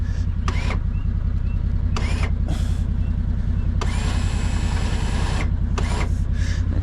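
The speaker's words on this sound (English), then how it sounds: "we've got the winch connected up to said log, and we'll see how this goes. So winch in" A winch pulls a jammed log on a New Zealand sheep and beef farm: a steady, loud low mechanical drone runs throughout, broken by several short higher whining and hissing bursts.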